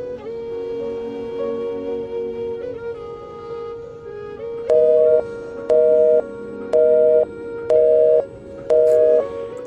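A phone rings out unanswered, a steady tone giving way to five evenly spaced rings, each followed by a pause, with no one picking up.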